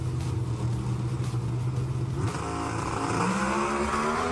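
Pro Stock drag race cars launch at Bristol Dragway with a loud, steady engine roar that rises in pitch as they accelerate away, the note climbing sharply partway through.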